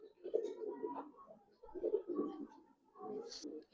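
Large-sized army pigeons coo in low, throaty phrases, two longer runs broken by brief pauses, close by and moderately loud, with faint background voices.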